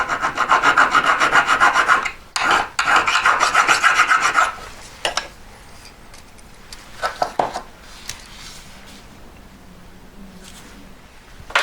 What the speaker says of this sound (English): I'm going to go with quite a delicate file. It's a bit sort of in between a needle file and a normal one.